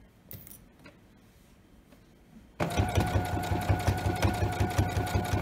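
Near silence with faint clicks gives way to a sewing machine stitching pajama shorts fabric to the edge, a loud, fast, even mechanical chatter that runs to the end.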